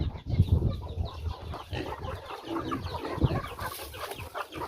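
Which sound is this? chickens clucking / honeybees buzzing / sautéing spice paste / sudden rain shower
chickens clucking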